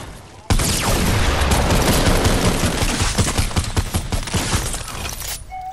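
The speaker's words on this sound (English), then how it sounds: "Why are you shooting at me?" Rapid automatic gunfire in Fortnite, loud and close, a dense burst of shots rattling on for several seconds before thinning out into scattered cracks.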